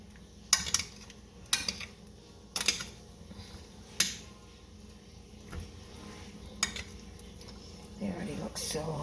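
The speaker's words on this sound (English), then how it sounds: "Mix these around a little bit. Get that sauce all over them and the onion." A spoon clinks and scrapes against a pan while meatballs and onion are stirred in sauce, giving a few sharp metallic knocks spaced about a second apart over a quiet background, ending in a brief louder scrape.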